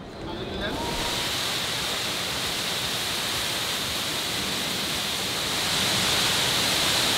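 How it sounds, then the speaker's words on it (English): The tall indoor waterfall at Jewel Changi Airport in Singapore gives a steady, loud, broad roar of falling water that swells in slightly near the start and holds constant, with no clear speech over it. "the famous Singapore Jewel, the tallest indoor waterfall in the entire world"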